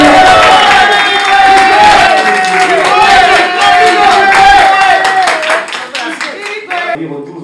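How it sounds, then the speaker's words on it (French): An audience at a press conference welcoming a Congolese musician claps and cheers loudly and continuously, with voices calling out over the crowd. The noise thins out near the end. "Est-ce qu'on peut applaudir?"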